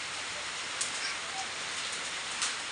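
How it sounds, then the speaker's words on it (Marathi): Steady, dense rain from a thunderstorm hisses evenly throughout, a constant wash of falling water with a few faint patters and no other sounds. "गरजत आहे आभाळ विजांच्या कडकडासह पाऊस सुरू आहे"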